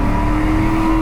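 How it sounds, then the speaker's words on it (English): A 770-wheel-horsepower Ford F-150 shop truck holds a loud, steady engine drone with a broad turbo whoosh over it, close and continuous for about a second with no voices. "it also has this turbine whoosh because you're just pulling in so much air"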